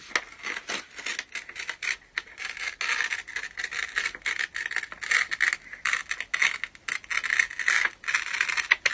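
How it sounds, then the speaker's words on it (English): Paper is crinkled and ripped close up in a radio studio, a continuous crisp crackling and rustling with irregular bursts and no voices. "I'm going to crinkle some paper for you now."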